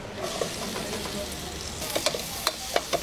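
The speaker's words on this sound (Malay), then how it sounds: "So, kita tumis bagi lembut sikit." Onions and garlic sauté in a pan for a goat curry soup, a soft continuous sizzle with a few sharper crackles and stirring clicks toward the end, fairly quiet and close, no talk.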